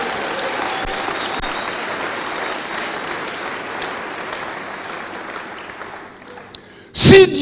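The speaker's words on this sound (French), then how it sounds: "Acclame le Seigneur, acclame le Seigneur." A church congregation at a French-language service applauding steadily, a dense, even wash of clapping that fades toward the end before a short loud burst.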